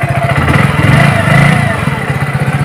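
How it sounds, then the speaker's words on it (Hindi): A 2022 Hero HF Deluxe BS6 commuter motorcycle engine idling close up, a loud steady single-cylinder putter with a fast regular thump and a slight swell in revs partway through, no talk. "इंजन साउंड की अगर आप देखेंगे दोस्तों"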